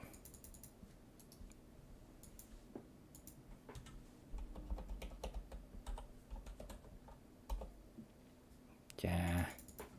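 Quiet clicks from a computer keyboard come in short irregular bursts, faint and close, with one louder clatter near the end, as someone types code during a live coding session.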